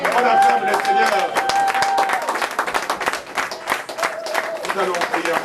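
A church congregation claps and cheers in praise, a dense, continuous wash of applause with raised voices and sung or shouted tones over it, loud and steady throughout.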